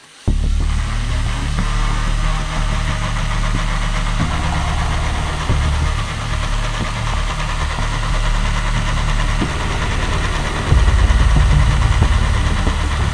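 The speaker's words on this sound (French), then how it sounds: "on va mettre que le moteur, on va voir lequel fait le plus de bruit et le meilleur bruit" A homemade motor-powered car's engine runs on its own on a test stand. It makes a loud, steady droning idle that holds close and continuous, then swells slightly louder near the end.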